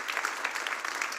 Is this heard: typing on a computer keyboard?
no